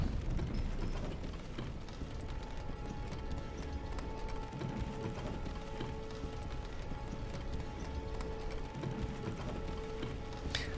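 A lift moving in the Elden Ring video game gives a continuous mechanical rumble with rhythmic clanking and ratcheting gears, steady and moderately loud throughout with no talk.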